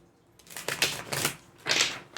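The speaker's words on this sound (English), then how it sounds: "I'm just going to shuffle some cards here" Tarot cards are shuffled by hand in several quick riffling bursts with brief pauses between, crisp and close, with no talking.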